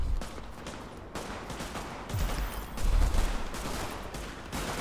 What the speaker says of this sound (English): They're just shooting up the supplies right now.